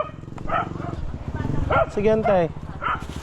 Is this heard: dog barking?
yes